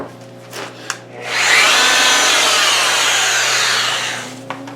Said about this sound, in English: I wouldn't want to continue using the belt sander to get up in this area